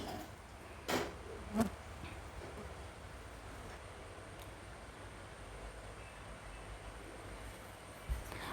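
Faint, steady buzzing of houseflies over a low background hum, broken by a couple of soft knocks and no voices.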